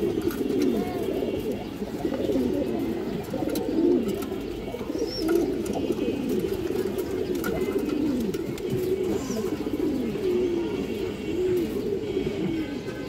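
Pigeons cooing, among them a male pigeon of a fancy breed, in a loft or market setting; continuous overlapping low throaty coos from several birds close by, with no talk.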